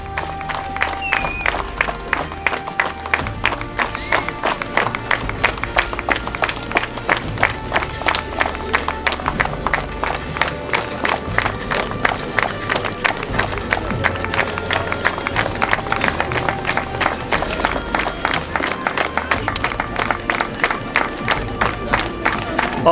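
A large audience at a university inter-college sports meet opening ceremony in Ladakh claps in a steady rhythm for the whole stretch, loud and sustained, with crowd murmur and occasional shouts mixed in.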